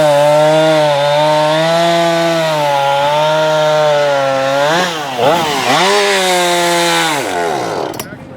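Husqvarna Rancher chainsaw running loud and close, holding a steady high rev before dipping and surging in pitch as the throttle changes, then winding down near the end.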